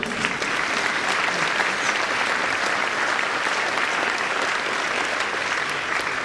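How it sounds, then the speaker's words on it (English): A gym audience applauds parents at an 8th grade promotion ceremony, steady dense clapping filling the room at full volume from start to finish with no speech over it. "Parents, yeah, we can give them a round of applause now."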